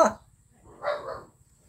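A dog gives two short barks, one brief yelp then a fuller bark a moment later, moderately close and heard alone over a quiet low hum.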